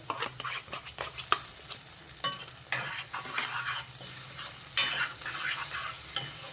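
Tomato and onion gravy cooking in oil for a drumstick masala curry: a soft sizzle and frying hiss continues under repeated stirring scrapes and occasional sharper knocks of a spoon against the pan.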